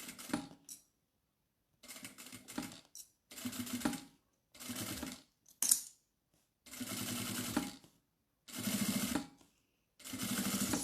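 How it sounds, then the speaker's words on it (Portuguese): A sewing machine runs in short bursts, stitching close along the edge of a clear crystal plastic bag to join the materials, with loud whirring runs separated by brief pauses. "Costurinha à beirinha, para unir aqui os materiais."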